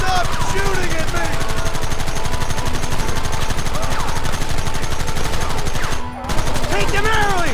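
Rapid gunfire in the Western video game Red Dead Redemption, dense bursts of rifle and machine-gun shots crackling almost continuously, loud and close, with a brief gap near the end before shooting resumes.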